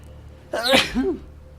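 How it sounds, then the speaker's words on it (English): A single loud, sharp sneeze bursts out after a quiet moment, with a short breathy tail. "Oh, that sneeze came out of nowhere."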